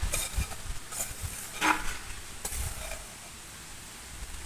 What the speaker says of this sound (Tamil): இதை நல்ல வடிவாக கைவிடாமல் அந்த மாதிரி வறுத்தெடுக்கணும்